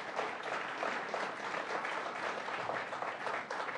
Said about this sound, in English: Let's give another round of applause to our district attorneys.